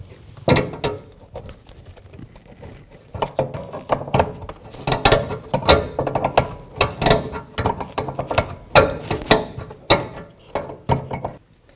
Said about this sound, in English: now I'm going to see if I can loosen this nut up